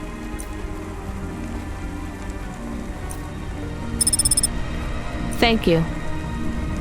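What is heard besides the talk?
rain falling in video game Cloudpunk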